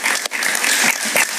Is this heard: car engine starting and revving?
no